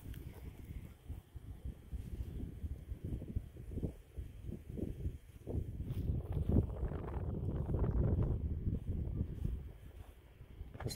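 Strong wind blows across an open park field near a small wooded area, a faint steady rumble with gusts that swell and fade, with no other sounds.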